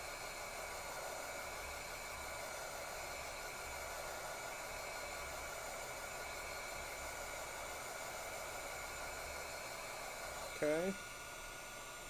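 Heat gun blowing to dry a glossy finish on a gourd resting on a silicone mat, a steady faint whir held throughout, with a brief spoken word near the end.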